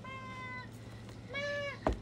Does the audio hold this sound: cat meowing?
yes